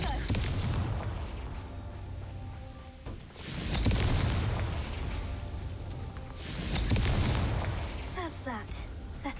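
Fiery blasting-spell explosions in the Hogwarts Legacy video game, a run of heavy booming bursts and crackling debris rolling in waves across several seconds, loud and close, with game sound layered around them.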